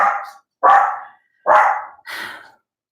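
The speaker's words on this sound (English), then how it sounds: "the dogs are going absolutely bananas" Several dogs bark excitedly indoors, four loud close barks in an uneven rhythm with short gaps between them, no talking over them.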